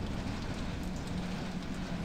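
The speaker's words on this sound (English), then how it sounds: "Lost in a secluded valley, you were suddenly caught in a fierce thunderstorm." Rain in a fierce thunderstorm in a secluded valley in a Japanese horror video game: a constant, faint wash of rainfall hiss with a low rumbling undertone, steady and unbroken with no voices.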